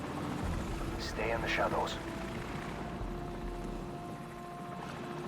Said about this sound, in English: Ah, Enemy helicopter, get down.